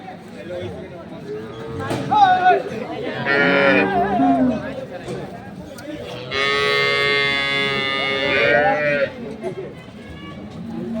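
Loud, drawn-out mooing from dairy cows with calves nearby, with several long calls among crowd chatter and voices of the busy Ambari livestock market in Dinajpur, Bangladesh.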